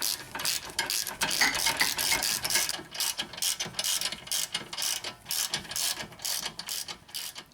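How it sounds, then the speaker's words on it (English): A hand ratchet clicks rapidly and continuously while tightening the rear wheel hub assembly bolts on a Honda Accord, close and loud, with bursts of fast pawl clicks separated by short pauses between strokes. "Now we can just put a ratchet in here and get them all tightened up."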